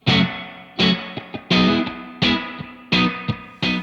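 Picked guitar chords through a Keeley Hydra stereo reverb pedal, struck in a steady rhythm with small accents between, each hit trailing a washy reverb decay.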